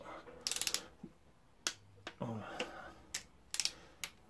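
Wrench tightening the water pump bolts on a 2-litre 143 hp 16-valve Audi A4 TDI engine during a timing belt job: quick bursts of close ratchet clicks separated by short pauses, with a faint voice in places.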